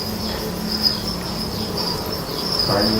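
Dense, steady chorus of crickets chirping at a cricket farm in the Mekong Delta region, a continuous high shrill trill filling the whole stretch without voices.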